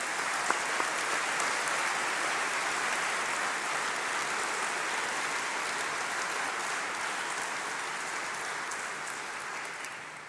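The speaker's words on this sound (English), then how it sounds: "Give yourselves a round of applause." Sustained applause from a large crowd at a graduation ceremony, steady and dense clapping throughout with no talking.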